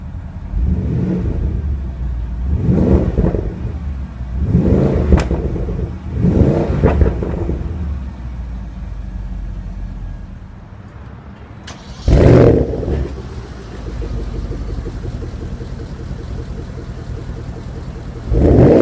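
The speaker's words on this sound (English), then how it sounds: "Now let's jump into the driver's seat, start it up and see how it sounds." A 2016 Porsche Panamera Turbo starts up with a loud burst, then settles into a steady idle. Earlier engine swells and revs rise and fall in a rhythmic pattern.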